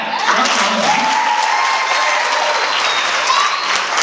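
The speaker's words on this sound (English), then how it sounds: "Let's clap for that." Audience applause at the 2017 Hugh O'Brian Youth Leadership event in Maine: steady, dense clapping from a large crowd that holds for about four seconds, with no talking over it.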